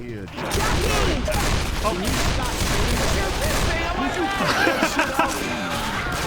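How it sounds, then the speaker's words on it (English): Heavy gunfire from survivors shooting at mobs in Left 4 Dead 2, rapid, dense bursts of shots close up with shouting voices mixed in throughout. "Will you stop shooting me?"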